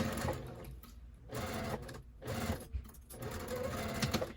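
A sewing machine stitches the corners of a fabric bin box in quick whirring bursts, stopping briefly between runs, up close and without talk.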